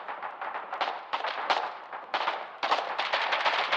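A fortified machine gun emplacement in the Foxhole war game fires in long rapid bursts, a dense rattling stream of shots broken by brief pauses, distant yet steady throughout.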